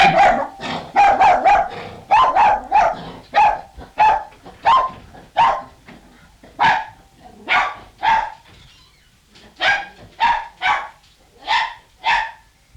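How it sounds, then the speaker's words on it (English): A dog barks loudly and close by in a long run of sharp, separate barks, quick at first and then spaced out with short pauses between them. "You've got plenty of bark on your tape now."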